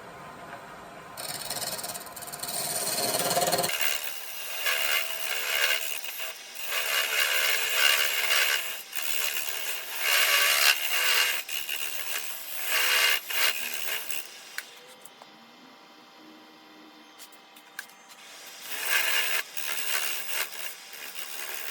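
Hand saw cutting wood to form tenons, rhythmic rasping strokes close up in repeated bursts with short pauses between, long and steady, no talk.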